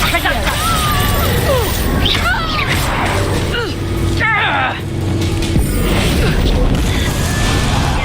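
In the Hogwarts Legacy video game, a Bombarda blasting spell goes off with booming, crashing explosions amid a dense, loud mix of combat effects and character voices.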